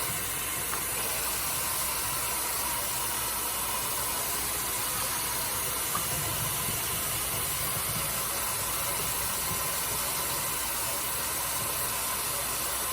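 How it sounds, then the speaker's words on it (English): Tap water runs steadily into a kitchen sink while lettuce is rinsed for taco night, a constant hissing spray that stays even and unbroken throughout, with no talking over it. "We're gonna rinse off our lettuce."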